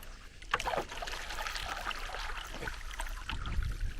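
Kayak or small boat paddled in front of a beach, with soft watery splashes and trickles from the paddle strokes over steady outdoor ambience, close and moderately loud.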